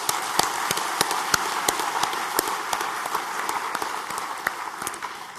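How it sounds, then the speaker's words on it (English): Sustained applause from a crowd, dense steady clapping with a few sharper individual claps standing out, continuing for several seconds. "Let's give them another round of applause"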